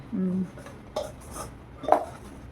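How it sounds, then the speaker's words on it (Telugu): A spoon scrapes and clinks in a bowl as bitter gourd chutney ingredients, chili powder and tamarind pulp, are mixed together. A few short, close metallic knocks are separated by quiet gaps, with a brief voice at the start. "ఇదంతా వేసి కలుపుకోవాలి"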